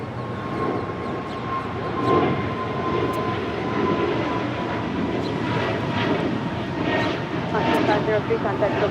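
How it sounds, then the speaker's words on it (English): A Breeze Airways Airbus A220-300 departs from the south side at Los Angeles International Airport, giving a sustained jet engine roar with a steady tonal whine, fairly close and even in loudness. "Next departure here on the south side is Breeze Airways Flight 503 heading to Jacksonville, Florida. Airbus A220-300."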